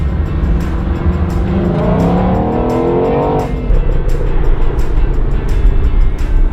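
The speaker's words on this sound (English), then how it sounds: "First drive in the GT 500." A Shelby GT500 Mustang drives with a loud, steady engine note that rises in pitch as it accelerates, then drops back after a shift, with repeated ticking clicks throughout.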